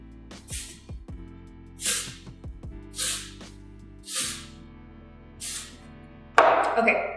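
A Makeup Perk Up dry shampoo can sprays at the hair roots in several short hissing bursts, five or so, spaced about a second apart, with a louder rustle of handling at the end.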